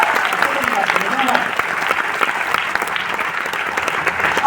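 A seated audience at a success celebration gathering breaks into steady, dense applause, loud and sustained for several seconds.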